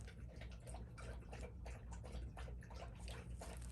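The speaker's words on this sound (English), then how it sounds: "You will hear my dog Roscoe drinking like he is now." A dog named Roscoe laps up water close by in quick, rhythmic splashy bursts that keep going steadily over a low, constant background hum.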